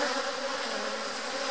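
Agitated honeybees during a hive split fill the air with a dense, high-pitched buzzing swarm drone, close and continuous with no talk.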